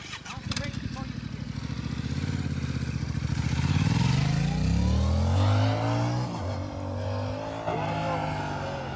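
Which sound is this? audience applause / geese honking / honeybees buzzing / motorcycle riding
motorcycle riding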